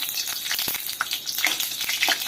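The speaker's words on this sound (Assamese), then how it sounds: "তেজপাতটো দি দিয়া ভাজি লওঁ" Bay leaves frying in hot oil in a kadai give a steady close sizzle with small crackles and pops, no voices over it.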